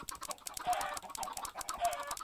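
Masses of Minecraft chickens on a game server cluck in a dense, overlapping chorus, quiet and continuous with rapid repeated clicks and no talking.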